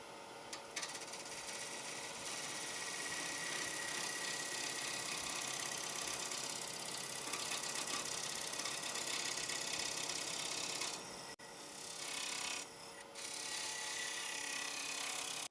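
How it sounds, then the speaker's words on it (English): A parting tool cuts into the bottom of a turned wooden bowl spinning on a lathe, giving a loud, continuous hissing scrape that holds steady and then breaks off briefly twice near the end. "I'll use a parting tool just to start the cut"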